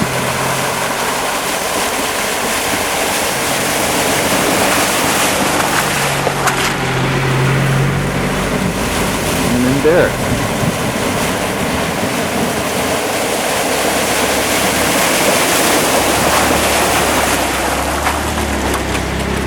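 Off-road vehicles crossing a river on Cathedral Valley Road in the north part of Capitol Reef National Park, a steady loud wash of rushing water and engine drone for the whole stretch, with a brief voice partway through.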